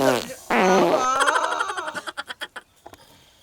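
A comic fart sound in a comedy skit, a long buzzing, squeaky tone that breaks into a rapid series of sputtering pulses, growing fainter toward the end.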